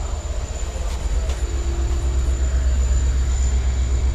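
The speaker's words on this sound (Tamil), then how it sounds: "நம்மளோட ட்ரெயினை எடுத்து மூவாகி போயிட்டுருக்கோங்க" A Chamarajanagar to Mysuru passenger train running, heard from aboard: a loud, steady low rumble of wheels on rails with a faint high whine throughout.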